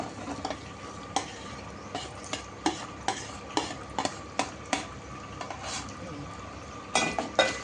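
Roasted gram, peanuts, cashews and curry leaves fry in a pan for atukula mixture, a soft sizzle under repeated scraping strokes of a spoon stirring steadily, fairly quiet and close.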